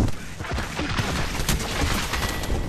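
Gunfire from the video game Apex Legends, a rapid, dense burst of overlapping shots with a steady loud roar filling the whole stretch.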